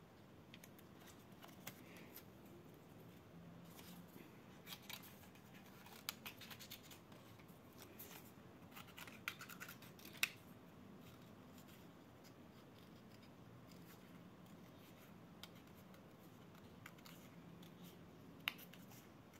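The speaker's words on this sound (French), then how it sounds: "Pendant que je fais les petites découpes et que je positionne." Small paper pieces for a three-panel card being snipped with scissors, faint sporadic cuts and light scratchy handling spread over a long, quiet stretch with soft room noise.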